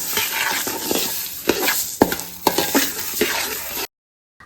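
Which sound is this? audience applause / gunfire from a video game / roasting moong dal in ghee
roasting moong dal in ghee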